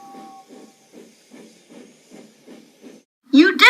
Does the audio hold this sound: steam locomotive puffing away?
yes